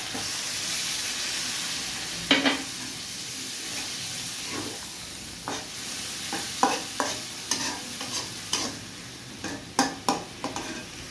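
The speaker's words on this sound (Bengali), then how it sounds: "এভাবে কষানোর মধ্যে শুকিয়ে গেলে, ভাজা ভাজা হয়ে গেলে, তখন সিদ্ধ করার জন্য 1 কাপ পানি দিলাম" Spiced potatoes with egg cooking in a pan, close-up, with a steady sizzle and hiss and repeated scraping stir strokes that come quicker and louder toward the end, no talk.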